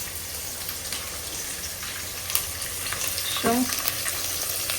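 Vegetables fry in a hot pan in a restaurant kitchen, giving a constant dense sizzle with stirring scrapes and a brief squeak, close and loud, while a single short word is spoken.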